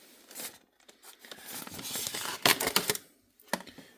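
Adhesive tape pulled off a roll and torn close up during packing of a toy container trailer, with a stretch of crackly peeling followed by a few sharp tearing snaps, quiet overall.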